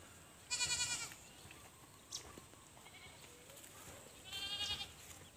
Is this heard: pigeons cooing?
no